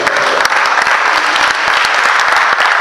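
A church congregation applauds at a consecration ceremony for an evangelist, giving steady, dense clapping that runs loud and unbroken throughout, with no voices rising above it.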